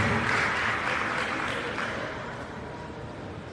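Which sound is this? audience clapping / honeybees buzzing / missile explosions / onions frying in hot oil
audience clapping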